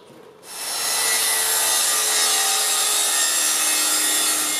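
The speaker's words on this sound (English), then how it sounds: "So there's the marks I'm going to be cutting, one straight down there, and then the top one." A hand saw cutting through wood for a composting toilet in a tiny house build, a steady close rasping stroke that starts after a brief pause and continues unbroken.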